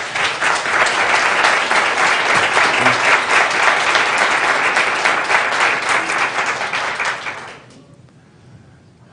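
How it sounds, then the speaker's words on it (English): Loud, dense applause from the audience at a county board of supervisors meeting carries on for several seconds, then stops abruptly and leaves a quiet room. "I think these folks deserve to give you a round of applause"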